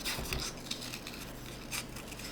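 Scissors snip through paper to cut a small circle for a bee craft, a few soft, close, quick cuts with light rustling between them.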